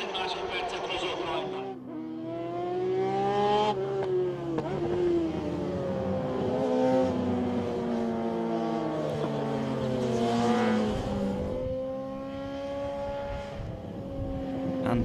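Racing sidecars at the Hungaroring during the 2012 FIM Sidecar World Championship, engines rising and falling in pitch as machines scream past one after another, under a commentator's continuous talk.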